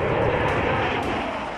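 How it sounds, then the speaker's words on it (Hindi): Military jet aircraft, fighters such as Sukhoi, roar overhead at a forward airbase near the LAC in Ladakh, a loud broad continuous rumble that fills the air without a break. "आपने आसमान में गरजते लड़ाकू विमानों की हुंकार सुनी।"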